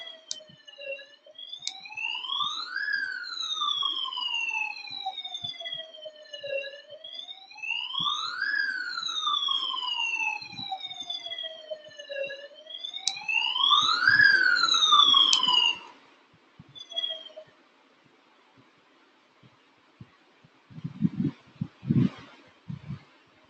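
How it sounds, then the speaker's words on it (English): A lift emergency alarm siren wails, rising and falling in long sweeping cycles for about fifteen seconds, then stops, followed by scattered knocks and faint movement. "So that was a siren, the alarm which blows up in the lift."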